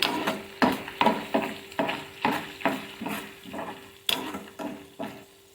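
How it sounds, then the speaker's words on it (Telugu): Grated ginger fries in a tempering in a pan for jackfruit curry, with a spoon stirring in steady, rhythmic scraping strokes over a soft sizzle, close and moderately loud. "మంచిగా వేయించుకున్న ఎర్రగా తాలింపులు"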